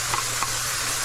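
Red beans and tomatoes being stirred into Cajun fried rice sizzling in a hot pan: a brief scrape of stirring over a constant close frying hiss.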